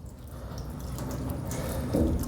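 Water runs steadily from a tap during wudu ablution, a continuous splashing stream that grows slightly louder toward the end.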